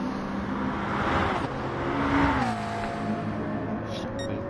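Racing car engine at the Circuit des 24 Heures du Mans in a video game, heard as a steady loud engine drone with a pitch drop as the car slows into a corner.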